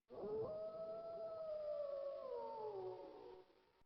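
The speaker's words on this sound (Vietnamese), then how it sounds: "Bạch Lang Vương một chiêu thành công rồi ngửa mặt hú dài, phát ra hiệu lệnh tổng tấn công" A wolf lets out a single long howl that holds steady, then slides lower in pitch before fading out, fairly faint and alone.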